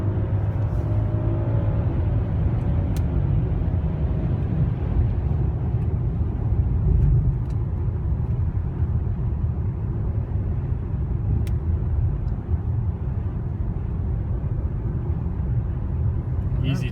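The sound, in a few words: 2016 BMW 740i accelerating on the road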